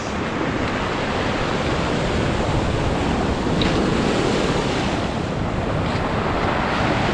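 Powerful surf on an Aurora beach roars continuously as a dense, steady wash of crashing waves, with wind buffeting the microphone and no voices.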